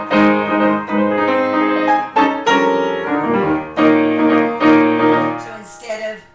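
A piano plays a variant of a Schubert scherzo rhythm: full, resonant chords in rhythmic phrases, with short gaps between groups. It is close, fairly loud, and heard alone.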